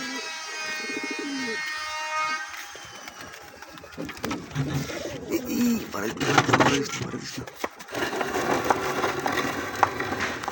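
Soft cooing and chirping of newly hatched pigeon chicks sits under a steady mechanical whir, with people talking over it.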